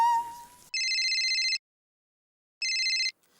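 A telephone rings in two loud electronic bursts, the first nearly a second long and the second shorter, separated by silence, after a brief faint sound at the start.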